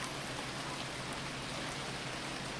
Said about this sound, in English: The rain is coming from very small clouds